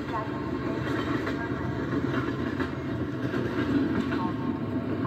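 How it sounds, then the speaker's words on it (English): A train rolls into a station in a shooter video game, a steady, dense rumble of rail noise with clattering wheels that holds loud and even for about five seconds. "So a train comes, so you can't go through this gap."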